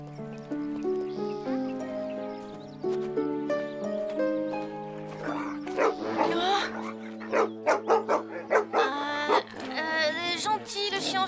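A cartoon dog barks in a series of short, sharp yaps over music in the later part, close and fairly loud, in an outdoor countryside scene during a school trip.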